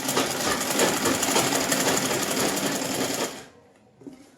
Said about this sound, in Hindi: देखो कितनी फिनिशिंग से आ रही है हमारी सिलाई, देख रहे हो, बिल्कुल एकदम ऐसे मोड़ते जाएंगे इसको और ऐसे।